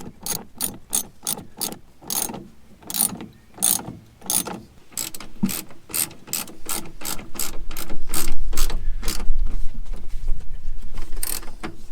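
A ratchet tightening a bolt on the rear suspension of a Renault 4, clicking in rapid bursts of strokes with brief pauses, loud and close, with a low rumble rising beneath in the second half.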